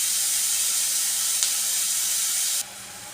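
Onions and tomatoes sauté with turmeric and salt in a pan for mutton kuzhambu, making a close, steady hiss that drops abruptly to a quieter sizzle near the end.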